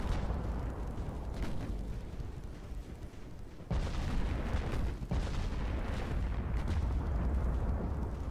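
Heavy battleship gunfire in the naval game Ultimate Admiral Dreadnoughts, a dense rumbling barrage of booming shots that swells sharply midway and keeps roaring loud and continuous, with no voices over it.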